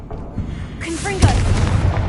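A Confringo blasting spell in Hogwarts Legacy bursts as a short booming explosion with a crackling tail, arriving just after a spoken voice.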